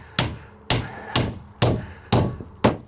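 Six sharp, evenly spaced hammer blows drive 2.5 inch spiral nails into plywood sheathing on a shed roof, each strike a loud, close thud with a short ringing decay.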